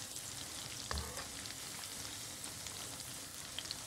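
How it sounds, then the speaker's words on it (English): Tilapia fish pakora deep frying on a high flame, giving a steady, dense sizzle and crackle throughout with one brief bump of spatter near the start. "Make sure you fry it on a high flame"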